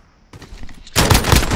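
Gunfire bursts out in a video game search and destroy match, first a few lighter shots, then a loud, sustained rapid volley that fills the final half second.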